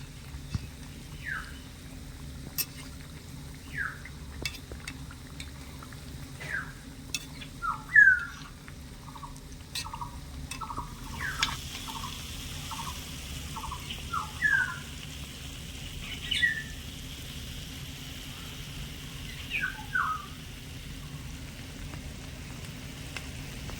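Gaja pastries frying in oil give a faint, steady low sizzle that runs throughout, while scattered bird chirps sound in the background.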